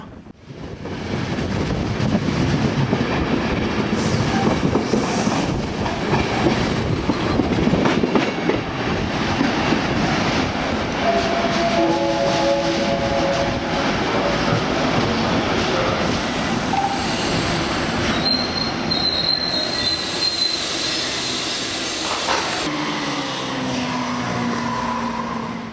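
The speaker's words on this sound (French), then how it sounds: "Voilà un dernier tunnel et nous allons arriver en gare de Rijeka." A train runs through a final tunnel into Rijeka station in Croatia, a loud, continuous rumble with faint clickety-clack and a brief high squeal near the end.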